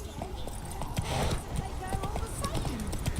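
Geralt's horse Roach trots with rapid hoof clip-clops in The Witcher 3, under busy game sounds and a voice speaking.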